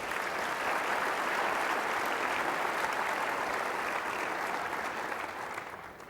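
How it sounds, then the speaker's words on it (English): A RailsConf conference audience gives a round of applause for O'Reilly: dense, even clapping from many hands that holds steady for several seconds before tapering off. "let's use a small round of applause for O'Reilly and what they do here"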